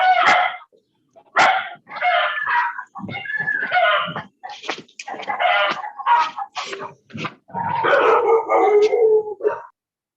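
Several dogs at home bark and howl in close, loud bursts, with short pauses between the drawn-out howls and yelps.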